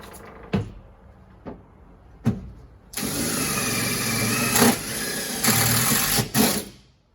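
Power screwdriver driving screws into pre-drilled wall panels in a Peugeot Partner van, with a few sharp knocks, then a long steady whirring run broken by brief pauses and clunks, close up with no talking.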